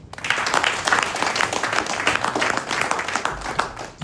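Crowd applause for a team, with dense, sustained clapping from many hands, loud and steady throughout with no pauses.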